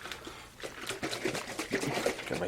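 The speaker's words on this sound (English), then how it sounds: "So I'm going to shake it one more time." A jug of homemade blueberry mead with added water is shaken with a thumb over the cap, giving a close series of rapid sloshing, gurgling splashes that grow busier.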